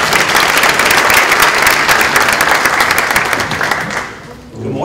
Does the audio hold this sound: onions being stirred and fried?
no